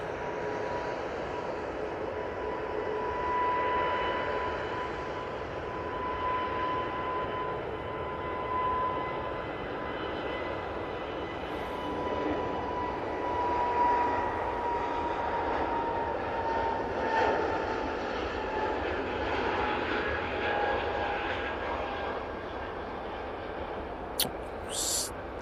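An Airbus A320neo jet taking off from Manchester Airport, a sustained engine roar with a faint whining tone, steady and moderately distant, while someone talks intermittently over it.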